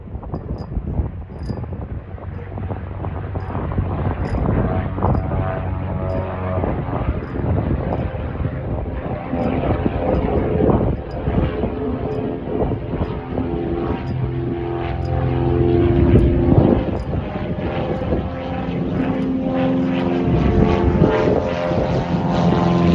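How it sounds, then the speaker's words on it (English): A Britten-Norman Islander propeller plane takes off at an island airport, its steady droning engines and buzzing propellers loud and continuous throughout, swelling slightly as it accelerates, with wind noise mixed in and no talking. "just look at this beautiful plane taking off"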